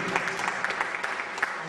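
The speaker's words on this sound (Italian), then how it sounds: "Lidia Signorino, alla signora Enza Tassoni, un applauso, ai" A crowd at an Italian event in Messina applauds, a steady patter of clapping running under a speaking voice throughout.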